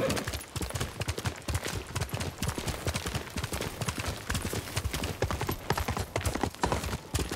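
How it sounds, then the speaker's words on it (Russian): A horse gallops in the video game Ghost of Tsushima, with rapid, continuous hoof clip-clops in a steady driving rhythm, loud and close for the whole stretch. "А, у него конь есть."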